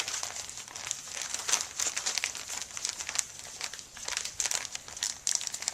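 Plastic Ziploc bag holding a thin epoxy and glass balloon mixture is kneaded and turned over by hand, giving steady close crinkling and crackling with sharper rustles throughout, no talk.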